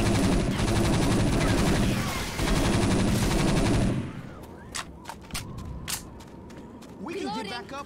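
Gunfire in the video game Left 4 Dead: a long, loud burst of rapid automatic fire followed by a few separate single shots, with voices over the action.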